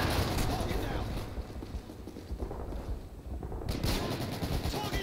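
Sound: gunfire in Call of Duty: Modern Warfare 3 video game

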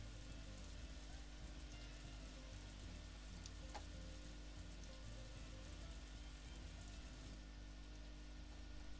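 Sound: rain in the video game Story of Seasons A Wonderful Life

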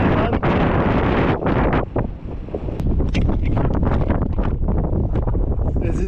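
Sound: strong wind

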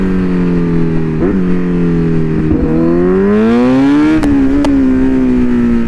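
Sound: Kawasaki Z900 motorcycle engine revving during ride

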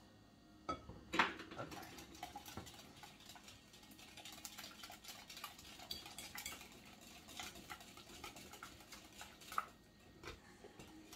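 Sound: whisking grain-free banana bread batter in a bowl

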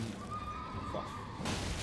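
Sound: horse neighing in video game Elden Ring

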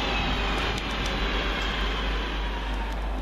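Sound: train 323235 arriving at Heaton Chapel

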